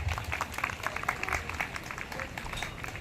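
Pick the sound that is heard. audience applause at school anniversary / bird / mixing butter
audience applause at school anniversary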